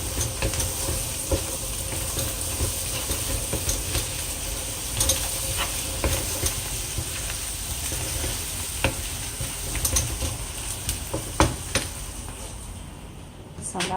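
Chicken biryani masala sizzling and frying in a pan, a steady close hiss broken by scattered scrapes and clicks of stirring, with faint talk now and then underneath.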